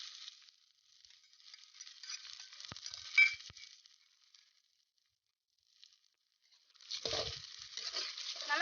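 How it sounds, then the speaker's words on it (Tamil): Four beaten, salted eggs hit a hot pan for street-style egg fried rice, bursting into a loud, crackling sizzle near the end after a quieter stretch of faint frying and a brief silent pause. "நாலு முட்டையை நல்லா உப்பு போட்டு நல்லா அடிச்சு வச்சுக்கிட்டேன் இப்போ இதில் ஊற்றிடலாம்"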